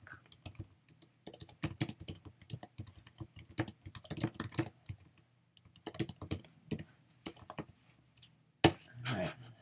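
Fingers type on a computer keyboard in quick, uneven runs of close, crisp key clicks, with short pauses between bursts and no talking.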